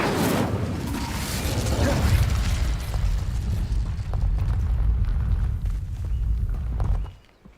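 Incendio fire spell cast in the Hogwarts Legacy video game: a loud, sustained roaring burst of flame with rumbling, crackling texture that holds for several seconds before cutting off abruptly.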